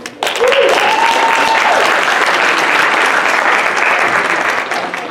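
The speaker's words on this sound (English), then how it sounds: "a big round of applause for everyone who shared and for everyone who stayed and listened" Loud, sustained applause from a conference audience after an open-mic poetry reading, a thick wash of clapping that starts abruptly and stays strong, with a brief voice rising above it early on.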